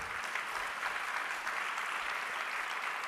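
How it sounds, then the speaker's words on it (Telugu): Audience applause at a religious gathering, a dense, even wash of many hands clapping at moderate distance, continuing steadily without speech. "ఒకసారి చప్పట్లు కొడతారా వాళ్ళకు?"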